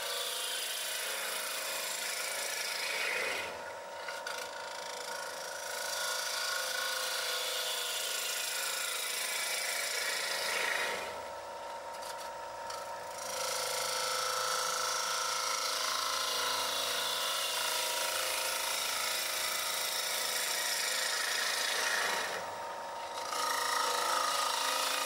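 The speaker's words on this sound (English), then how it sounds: "remount the bowl and hollow out the inside with a suitable gouge" Wood lathe turning a bowl blank while a 3/8 inch (10 mm) replaceable-tip bowl gouge hollows out the inside, a steady broadband whirring scrape with several brief pauses and dips as the cut eases off, no talking.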